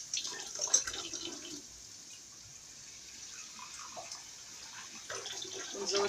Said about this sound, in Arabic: ونزودها ندعة مية بسيطة